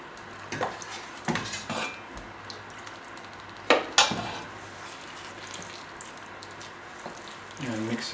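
Sticky chicken porridge being stirred in a pot, with intermittent clanks and scrapes of the spoon against metal and soft thick squelches, faint voice in the background.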